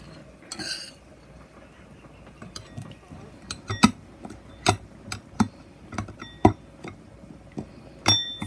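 A spoon clinks against a glass as a ginger biscuit and butter mix is spooned in, giving a series of sharp, close taps and scrapes that grow more frequent, with a few louder knocks near the end.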